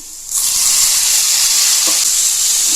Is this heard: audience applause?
no